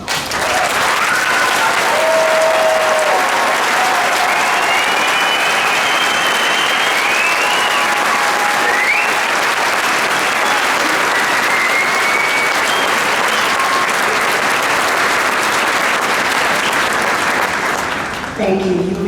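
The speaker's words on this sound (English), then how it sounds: "Will all seniors please stand and accept our applause?" Graduation audience applauding the Class of 2017 seniors as they stand, a dense, loud, sustained roar of clapping from a large crowd lasting the whole stretch and tapering at the very end.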